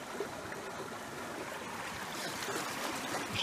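Fast-flowing stream water at a gold-panning spot rushes and gurgles in a steady, close, continuous wash with no pauses.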